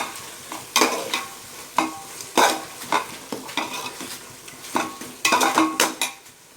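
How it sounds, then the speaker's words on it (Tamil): Garam masala is stirred into chicken biryani in a pot, a close run of sharp, uneven scraping strokes against the metal with quiet gaps between them and no talking. "சேர்த்துட்டு ஒரு கிளறிடுங்க"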